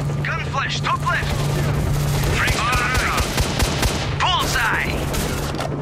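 Gunfire in STALKER: Shadow of Chernobyl, a rapid run of sharp shots and bursts under a steady low hum, with voices talking over the shooting.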